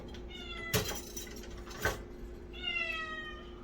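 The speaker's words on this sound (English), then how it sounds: "And we've got a Boats who is meowing his head off." A cat meows repeatedly nearby, drawn-out cries with a couple of sharp clunks in between, over a low background hum.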